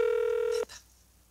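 Telephone dialing tones before a call: one steady, loud tone holds for about half a second, then cuts off and leaves a faint hiss.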